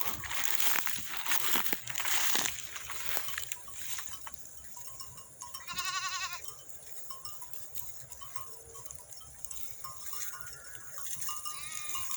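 A single dairy-breed sheep bleats midway through, wavering and moderately near, amid outdoor rustling and crinkling noises.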